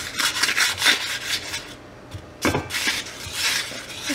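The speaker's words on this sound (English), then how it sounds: "I'm just gonna butter my pan a little bit here" Butter is rubbed across a pan before eggs are cooked, giving soft scraping, rasping strokes in short bursts with brief pauses, close and fairly loud, with no talking.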